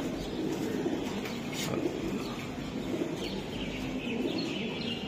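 Club-raced racing pigeons coo faintly within a dense, noisy loft ambience, low calls blending into a constant wash of background sound.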